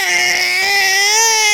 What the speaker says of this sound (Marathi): त्यांच्याकडे जायचं म्हणून रडू राहिलाय पिल्लू